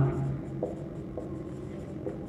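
Writing strokes on a board in a Hindi-language class 12 physics lesson, a few soft scratches and taps over steady background noise, with no clear speech.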